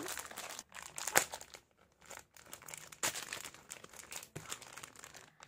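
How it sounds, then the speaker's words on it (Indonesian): Plastic packaging of a cheap makeup remover wipes pack being opened, with loud crinkling and crumpling in irregular bursts and short pauses, close up and without talk. "kita bakal buka ini produknya"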